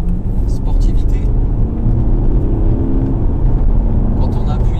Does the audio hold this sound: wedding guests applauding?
no